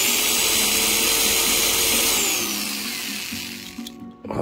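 A power drill whirs steadily and loudly, its pitch shifting and slowing briefly before it winds down near the end.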